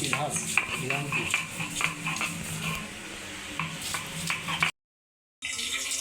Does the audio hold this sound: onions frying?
yes